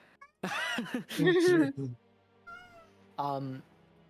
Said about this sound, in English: You have a loud cat.